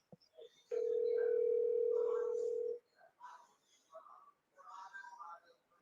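An incoming call comes through on a talk program's telephone line as one steady, loud tone lasting about two seconds. Muffled phone-line speech follows after it stops.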